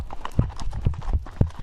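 A horse ridden along the 12-mile woodland trail to Charit Creek Lodge in Big South Fork National Park, hooves clopping in a steady, uneven rhythm of close, solid thuds with no talking.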